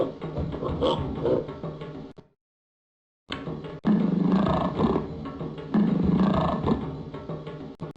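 A deep, rumbling dinosaur roar from a video game bellows twice, loud and close, separated by a brief silence, with growling texture throughout.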